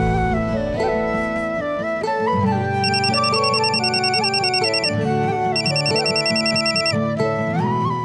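A bright electronic mobile phone ringtone plays a looping melody loudly and continuously, with repeated ringing phrases and no talking.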